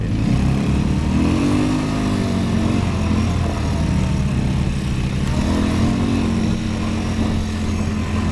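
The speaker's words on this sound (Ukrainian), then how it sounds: "навіть по такому покриттю сніг колеса буксують. Але квадрик їде." A Loncin LX200ATV-U quad bike driving over snow with spinning wheels, its engine droning loud and steady nearby, with rising and falling revs throughout.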